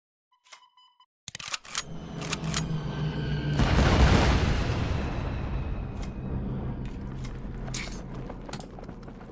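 A bomb drops in the Kards card game: a few light clicks, then a swelling, booming explosion that peaks and rumbles away slowly over several seconds.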